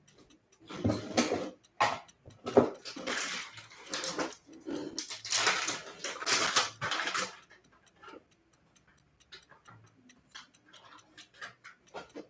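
A pet dog moves around indoors close by, making bursts of rustling and clicking over several seconds, with soft whimpers, followed by quieter, sparse sounds.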